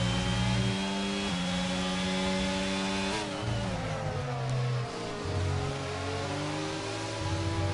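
Racing car engines rev and shift in F1 22 at the British Grand Prix, rising and falling in pitch as cars accelerate and brake, loud and continuous with no talking.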